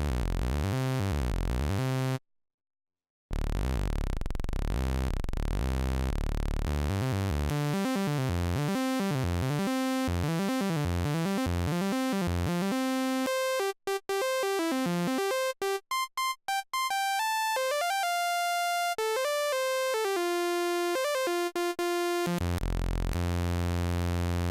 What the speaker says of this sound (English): Next is a more traditional sawtooth.